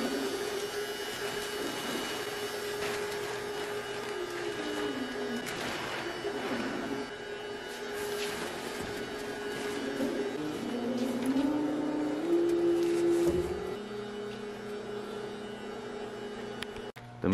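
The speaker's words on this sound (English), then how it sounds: "We're gonna go ahead and let the machine do its thing" A CNC cutting machine steadily cuts parts for a homemade Cybertruck-style sedan, a continuous mechanical hum with shifting whining tones that rise and fall as the tool moves, fairly close and running alone without talk.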